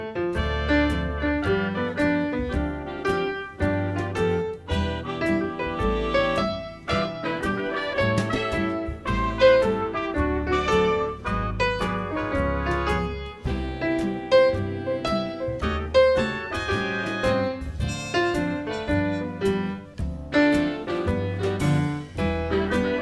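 A jazz standard is played on solo piano with chords broken into arpeggiated inversions, a steady rhythmic flow of bass notes and rolled upper tones, close and fairly full, with no voices.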